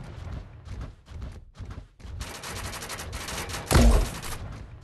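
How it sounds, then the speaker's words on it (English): Gunfire at a shooting match, with bursts of rapid shots in irregular clusters and one louder close crack near the end, all without talking. "Commence firing."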